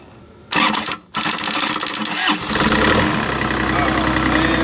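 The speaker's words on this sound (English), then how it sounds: "Let's give this guy a go. Let's see if it'll crank up." Cat 303.5E2CR mini excavator engine cranking over, catching and settling into a steady loud idle, close by, after a fuel lift pump problem.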